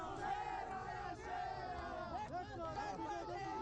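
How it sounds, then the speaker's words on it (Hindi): Party workers gather at an election nomination and chant slogans loudly in unison, a dense, continuous crowd roar with overlapping voices close by. "इस दौरान कार्यकर्ताओं की ओर से जोरदार नारेबाजी की गई।"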